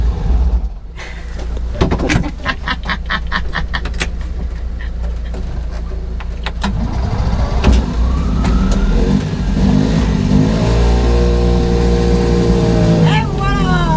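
Licence-free microcar climbing a parking ramp, engine loud and close, revving up with a rising strained drone; a voice speaks briefly over it.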